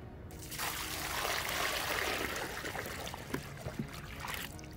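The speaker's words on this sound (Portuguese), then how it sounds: "Vamos jogar aqui água, vamos ver se vai ficar" Water pours from a bucket into a dry termite mound, a continuous trickling splash that swells in the middle and tapers off with a few small gurgles near the end.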